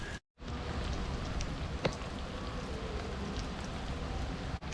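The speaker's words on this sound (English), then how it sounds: "I'm just basically getting soaked, and hopefully this rain will stop." Steady, dense rain pours in Jodhpur, India, a continuous close hiss of drops on surfaces that holds from start to finish, with a brief pause near the beginning.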